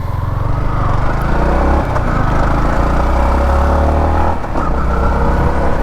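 A Yamaha MT-15 V2 motorcycle engine runs steadily and loudly close by, a continuous low idle with a slight dip partway through, no speech over it.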